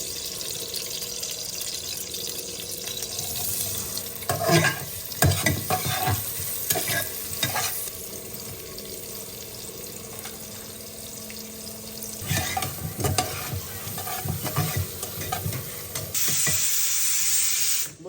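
Onion frying in ghee with cinnamon, cardamom and bay leaf for a beef curry, a steady broadband sizzle running throughout, broken by louder bursts of stirring and scraping around the middle, with no talking.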